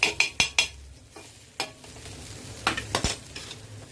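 Boiled potatoes being mixed in a bowl for cheese samosa filling, with a spoon clinking and scraping in irregular bursts, close and fairly quiet.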